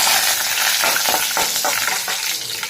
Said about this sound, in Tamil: இப்போ வந்து நம்ம கருவேப்பிலை போட்டுக்கலாம்.